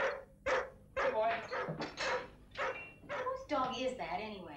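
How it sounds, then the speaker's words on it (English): A neighbor's dog barks in a run of loud, close woofs and yips, about eight bursts spaced unevenly over a few seconds, with speech-like overlap throughout. "Whose dog is that, anyway?"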